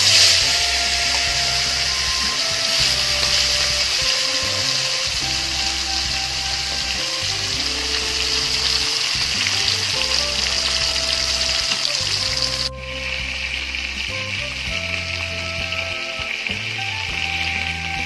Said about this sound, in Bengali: তেল গরম হয়ে গেছে, এবার আমি মাছগুলো দিয়ে দেব।